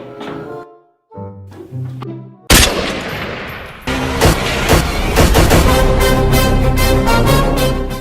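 PUBG video game gunfire: after a brief quieter start, loud sustained rapid bursts of shots crack out continuously for several seconds, dense and close.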